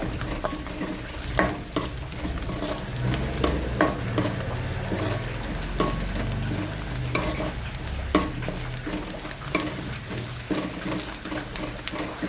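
Onion, ginger and garlic fry in hot oil in a pan while a spoon stirs them, giving a steady close sizzle broken by repeated scraping strokes against the metal.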